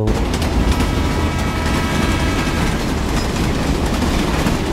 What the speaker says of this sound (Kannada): ನಂಗೂ ಈ ರೈಲು ಸೌಂಡ್ ಕೇಳುತ್ತೆ